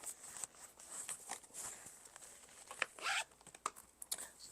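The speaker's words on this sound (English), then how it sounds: "It also has a zipper." Zipper on a vanity case pocket slid open and shut in a few short, raspy bursts up close, with faint rustling and handling noise in between, no talking.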